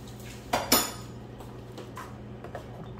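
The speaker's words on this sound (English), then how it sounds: "I have to wash my spoon off" A metal spoon clinks twice against a pot or dishes at the sink, one sharp near strike followed closely by a louder one, then a fainter knock, with no talking.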